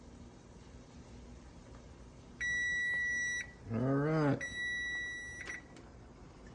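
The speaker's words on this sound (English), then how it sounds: "we gotta set the timer again" A kitchen timer in a home kitchen gives two sustained electronic beeps a second or so long, close and clear, while someone speaks briefly between them.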